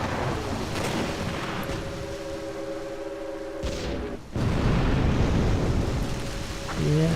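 Warship gunfire in the naval game Distant Guns, Jutland operation: deep rumbling booms with a sustained low roar and a tonal hum, a sharp cut near the middle before another heavy rolling blast, loud and dense.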